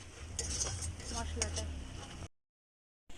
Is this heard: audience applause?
no